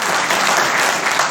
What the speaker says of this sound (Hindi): एक बार हमारे सम्मान में ताली बजाइए